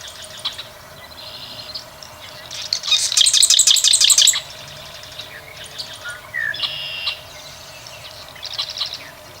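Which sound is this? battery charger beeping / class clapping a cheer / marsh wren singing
marsh wren singing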